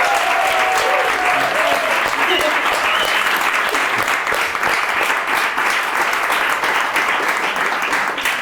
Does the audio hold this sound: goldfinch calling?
no